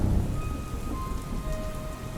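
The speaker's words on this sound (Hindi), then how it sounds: "बारिश की बूंदें टीन की छत पर लगातार टप टप की आवाज कर रही थी" Heavy rain drums steadily on a tin roof at night by a small village railway station, a dense, continuous patter with a low thunder rumble at the start and a faint tonal drone behind it.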